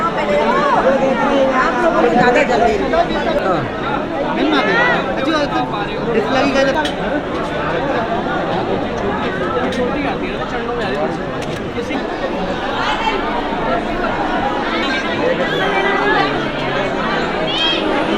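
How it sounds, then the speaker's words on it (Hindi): Dense chatter from a heavy crowd of devotees filling a temple lane in Vrindavan at dusk on Krishna Janmashtami, a continuous loud babble of many overlapping voices throughout. "हर गली में भारी भीड़ नज़र आ रही है भक्तों की"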